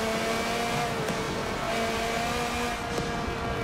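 Forza Motorsport 7 race car engine revving steadily, its pitch climbing and easing through shifts, with faint tire noise underneath; loud, sustained and free of speech.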